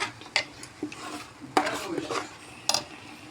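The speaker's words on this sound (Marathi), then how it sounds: "आता मसाला मस्त परतला गेला आपला. अजून 2 मिनटं आपण चांगला परतू देऊ याला." Masala being stirred and fried in hot oil in a large cooking pot, with irregular scraping and clattering stirs and a light sizzle underneath, close and moderately loud.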